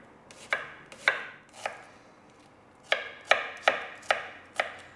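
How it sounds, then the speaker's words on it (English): A knife slices onions thinly against a cutting board, about eight crisp strokes in two quick runs with a short pause between. "just slice them up nice and thin"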